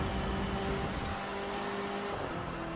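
A Cadillac Escalade's engine in The Crew 2 hums at a steady, moderate drone while cruising through open Dakota grasslands, with no talk.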